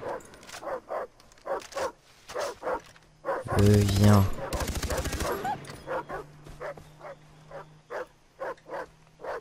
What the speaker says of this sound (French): Ah par contre, il y a des chiens.